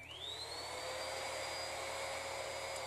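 A 1000-watt vacuum cleaner runs as the load on an R600 voltage regulator. Its motor whine rises quickly at switch-on and then holds a steady, high-pitched hum on its own.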